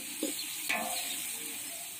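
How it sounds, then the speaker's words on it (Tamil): Onions and green chillies sautéing in a pan for chicken biryani over a firewood fire, a steady close hiss and sizzle with a couple of light clinks of stirring. "இப்போ வெங்காயம், பச்சை மிளகாய் சேர்த்து வதக்கிடலாம்."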